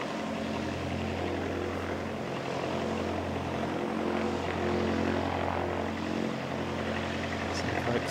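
An Emirates Airbus A380 powers up during a go-around, its jet engines giving a steady, heavy roar that fills the whole stretch, with voices faintly underneath.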